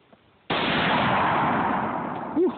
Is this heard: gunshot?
yes